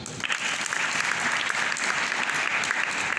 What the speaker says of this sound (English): You can people clap for yourselves